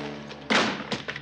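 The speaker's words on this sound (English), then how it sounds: "Throw the gun in the corner." A gun tossed into a corner lands with a dull, close thud, followed by a couple of lighter knocks, over a low steady hum in a 1977 TV sci-fi comedy scene.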